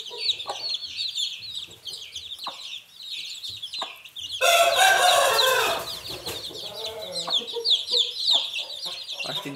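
Hens cluck steadily with a brood of about seventeen chicks, their high peeping chirps running continuously close by, with a louder burst of squawking and flapping in the middle.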